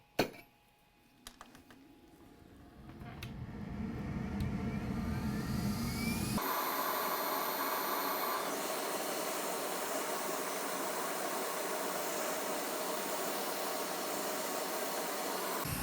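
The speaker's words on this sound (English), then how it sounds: "Fume extractor on, hot air station on." A fume extractor and hot air rework station switch on at an electronics bench during car SRS module repair, a broadband airflow roar building up over several seconds and then holding steady and loud, preceded by a few small clicks.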